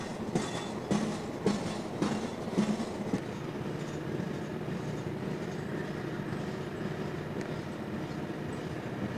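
Norfolk Southern helper locomotives, Conrail-numbered units on a snowy mountain line near Gallitzin, Pennsylvania, roll past with steady rumbling and a few sharp clickety-clack wheel beats early on, then a continuous wash of rail noise.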